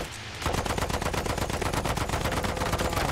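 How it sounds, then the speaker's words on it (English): An aircraft machine gun in Battlefield 1 strafes a bomber, firing a rapid, unbroken burst of loud, dense shots that starts abruptly after a short quiet moment and continues to the end. "That was a good strafing on a bomber"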